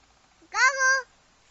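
A pet cat gives a single clear, drawn-out meow at close range in a quiet home, lasting about half a second.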